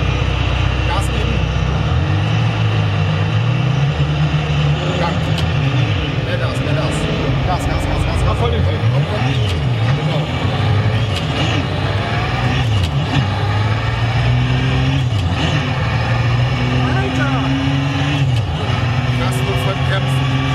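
Race truck engine at the Truck Grand Prix revving and accelerating hard from the start light, loud and close with rising and falling pitch sweeps as it climbs through gears, with a voice speaking over it.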